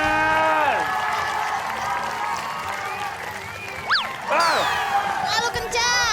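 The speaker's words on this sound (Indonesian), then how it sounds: "Boleh kita berikan tepuk tangan" Studio audience of a lively Indonesian TV game show applauding and cheering, a crowd roar running under loud host talk and bright sliding music or sound effects.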